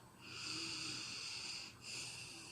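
A patient blows air out hard through a device sealed against the lips during a breathing exercise, two sustained hissing, whistling exhalations separated by a brief pause, close and fairly loud with no talk.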